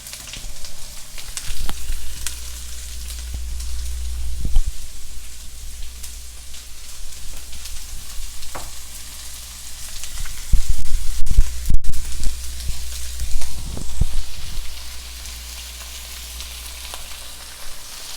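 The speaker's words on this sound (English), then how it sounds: "The pan's nice and hot with the oil. Add my carrots and onions." Carrots and onions sizzle steadily in hot oil in a pan for shepherd's pie, a loud continuous frying crackle with occasional stirring scrapes and a brief louder burst midway.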